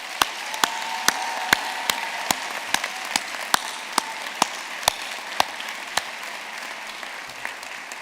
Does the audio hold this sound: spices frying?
no